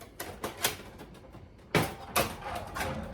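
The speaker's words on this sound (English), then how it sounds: "So you close it, and then you would lift up, and it would allow you to open the front door" The front door of a fully restored vintage pachinko machine, converted to single shot, is worked open with a string of light mechanical clicks followed by two louder, sharper clunks, close up.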